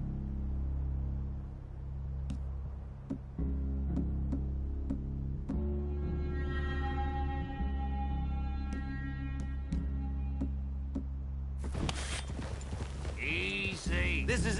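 Steady clip-clop of hooves at a walking pace, close by, with a low rumble beneath and a brief louder burst near the end.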